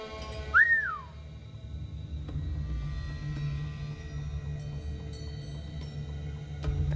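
A character in Assassin's Creed IV: Black Flag gives a short rising-and-falling whistle to lure a guard, a single clear tone near the start followed by low game ambience and faint ticking.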